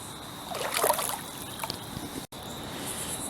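Wading through a wide, shallow river about 200 feet across, with steady water swishing and splashing around the legs, strongest early on, over a constant close flowing-water hiss.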